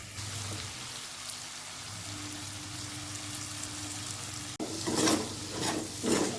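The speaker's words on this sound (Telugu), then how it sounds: "కాకరకాయ వేసిన తర్వాత ఇల్లు ఇట్లా ఒక నిమిషం పాటు అయితే ఫ్రై చేసుకోవాలి" Sliced bitter gourd frying in a pan makes a soft, steady sizzle, then louder scraping and stirring noises near the end, with no talking.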